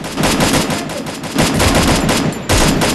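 Gunfire in the mobile battle royale game Free Fire: loud, dense bursts of rapid automatic shots filling the moment, with brief pauses between volleys.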